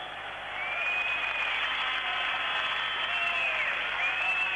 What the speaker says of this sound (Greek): χειροκροτήματα από τους λίγους θεατές, ανάμεσά τους και πολλοί Έλληνες είπαμε